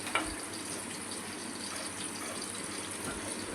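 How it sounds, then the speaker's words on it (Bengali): Rohu fish frying in a pan, a continuous even sizzle close by with one brief clatter near the start, no talking. "এদিকে মাছ ভাজতে বসিয়ে দিয়েছি"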